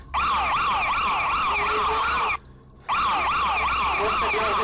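A loud, close panic-button alarm siren wails in a fast, repeating up-down pattern, cutting out for a brief moment before resuming just as loudly.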